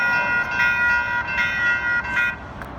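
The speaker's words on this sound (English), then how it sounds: "There she goes to Blue Line Baypointe one-car train." A one-car VTA light rail train on the Blue Line passes close, its loud motor whine holding steady tones with slight fluctuations over a couple of seconds before easing off.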